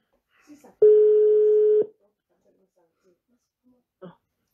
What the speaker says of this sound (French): ça sonne chez ma mère